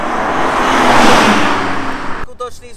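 A 510-horsepower BMW M3 Competition engine roars loud and close in one sustained rev that swells and then fades, and a voice takes over as it dies away.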